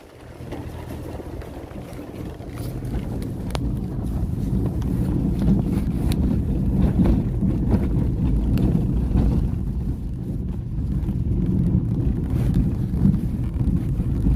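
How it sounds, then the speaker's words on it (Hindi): Cold wind blowing steadily in Gagan Valley on the Shimla-Narkanda road, a continuous low rushing roar buffeting the microphone for the whole stretch. "बहुत ही ठंडी ठंडी हवा चल रही है"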